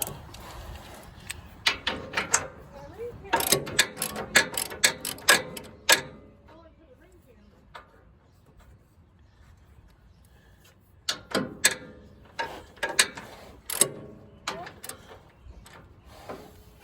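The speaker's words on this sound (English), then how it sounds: "Where's the ratchet? There it is." A ratchet tightens the steering gearbox bolts on a 1985 Chevy shop truck, giving bursts of quick metallic clicks in two clusters separated by a quiet pause.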